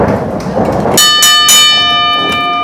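A wrestling ring bell at an indie pro wrestling show clangs three times in quick succession, loud and ringing, then decays after a stretch of crowd noise.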